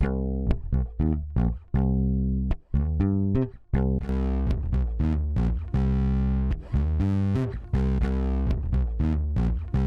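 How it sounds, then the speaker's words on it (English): A bass line runs through a LadyBug lo-fi plugin and a compressor, plucked notes in a rhythmic pattern that first sound clean and then take on a gritty, saturated colour once the effects are engaged. "So here I'm not even using the reverb on the bass, I've just got lo-fi and compressor."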